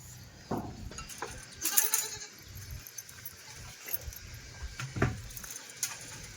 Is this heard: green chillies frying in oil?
no